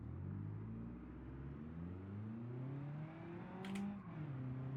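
Tofaş car engine running on gasoline in BeamNG Drive, revving up through rising gear-like sweeps, a steady buzzing whine that climbs, drops briefly and climbs again, with a short sharp click near the end.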